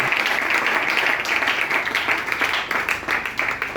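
A church congregation claps and applauds in praise of Jesus Christ, a dense, steady wash of many hands close by that holds throughout without pause.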